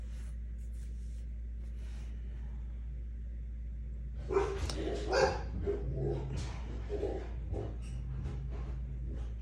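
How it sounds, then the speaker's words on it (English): A dog barks and yips several times in a short cluster partway through, over a steady low background hum. "Apologies for my dog."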